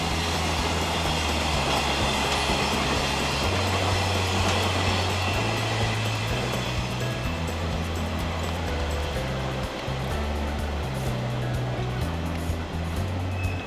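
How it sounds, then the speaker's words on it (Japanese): A Keikyu New 1000 series train hauled by an electric locomotive rumbles steadily along the rails near Shin-Kawasaki toward the Shin-Tsurumi signal yard, a continuous loud rolling roar with low clanking tones throughout. "新川崎駅近くの新鶴見信号場まで輸送されて、電気機関車の出番は終了となります。"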